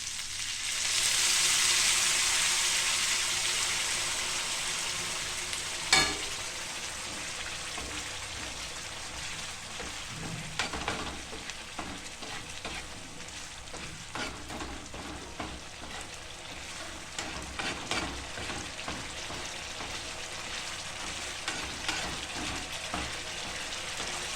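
Pav bhaji vegetables fry in a pan with red chilli, a loud hiss at the start that eases into a steady sizzle, with a utensil stirring and clinking against the pan throughout.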